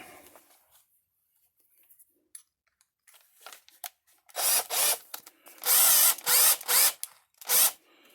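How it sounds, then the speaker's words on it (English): Quiet handling noises give way to repeated loud bursts of a power drill on high spinning a copper piece in wood, whirring in short pulses with brief pauses between. "Put the piece of copper in, put the drill on high."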